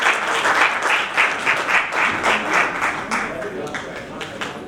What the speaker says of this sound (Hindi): सभी लोग जितने भी सदन में मौजूद हैं जोरदार तालियों से सभी कोर कमेटी मेंबर्स का स्वागत करेंगे।